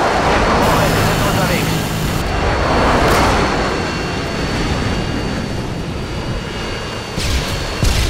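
Harrier jet flying in during a Call of Duty Modern Warfare 2 match, a loud continuous roaring rush with swelling passes and bursts, dense game noise throughout.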